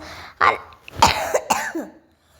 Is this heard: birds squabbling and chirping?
no